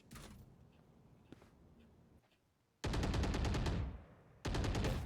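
Bursts of rapid automatic gunfire in the tactical shooter Valorant during a Sunday Showdown esports match, two loud sustained volleys separated by quieter footsteps and clicks.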